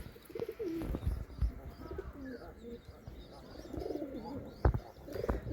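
Pigeon squabs being fed give soft cooing and chirping calls among low rustling and occasional knocks, fairly faint and close.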